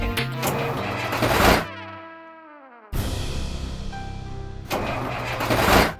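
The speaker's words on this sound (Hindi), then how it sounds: "पता नहीं यार, गाड़ी नहीं स्टार्ट हो रही।" A car engine cranks repeatedly in rough bursts, then a whining starter tone falls away, followed by more grinding cranking attempts that fail to catch, loud and close with no speech.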